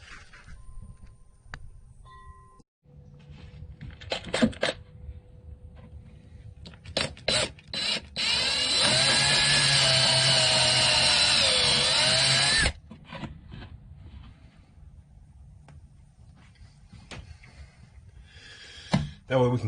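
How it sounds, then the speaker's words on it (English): A power drill countersinks a screw hole in the end grain of ukulele wood. It gives a sustained whining run of about five seconds, set between scattered clunks and handling knocks, close and loud. "we'll countersink a screw right here, and that way it will screw into the peg piece"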